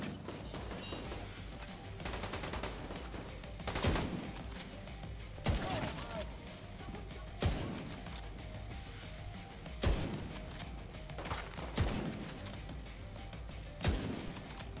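Gunfire in The Division 2: a steady exchange of shots with sharp, louder reports roughly every two seconds over continuous background shooting and clatter, fairly close and persistent throughout.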